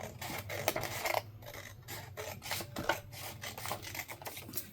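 A paper trimmer scores a line across craft material for a Christmas wallet project, giving a close, dry rasping rub in several short strokes with brief pauses between them.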